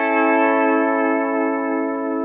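A single sustained pedal steel guitar note with smooth, gentle bar vibrato, ringing steadily with an echoey, effected tone.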